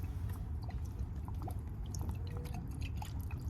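Rice vinegar is poured into a pot of fish paksiw with eggplant, making a soft trickling, splashing stream of liquid over a low background hum, close and continuous, with no talking.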